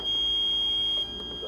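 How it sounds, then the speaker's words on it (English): A high electronic alarm tone sounds continuously inside the cab of a Bobcat S64 R-Series skid steer with electrical faults, steady and fairly loud over low machine rumble. "We got alarms going off"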